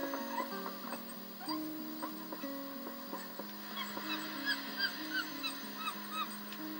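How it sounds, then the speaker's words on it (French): A creature in The Legend of Zelda: Twilight Princess on Wii chirps in repeated short, high peeps over a steady game music bed with ticking, light and fairly continuous. "On dirait qu'il piaille, quoi."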